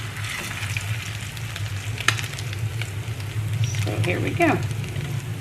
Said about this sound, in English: So we're just gonna brown these up like the other ones.